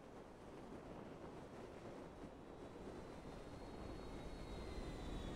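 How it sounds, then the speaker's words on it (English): In Grand Theft Auto V, a plane flying very fast gives off a steady, dense rushing roar of engine and wind that swells slightly toward the end, with no voices over it. "That plane is flying super duper fast."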